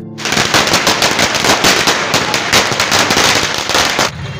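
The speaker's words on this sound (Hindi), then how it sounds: "पार्टी कार्यकर्ताओं द्वारा पटाखा फोड़कर और मिठाई बांटकर खुशियों का इजहार किया गया" Firecrackers burst in a dense, continuous rattle of rapid pops during a party celebration at Gandhi Chowk in Madhupur, loud and unbroken for about four seconds before cutting off abruptly.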